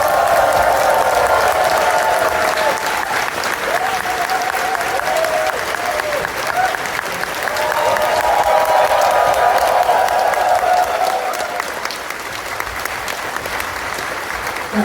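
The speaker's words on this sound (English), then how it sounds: "Big round of applause, please." Sustained applause from a convention closing-ceremony audience fills the whole stretch, steady and dense, with a slight swell partway through before tapering a little.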